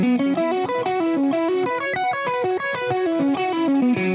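An instrument plays a staggered pattern exercise with both parts connected into one seamless line, a continuous stream of repeating notes running steadily and loudly throughout with no talking, processed with an effects unit and distortion.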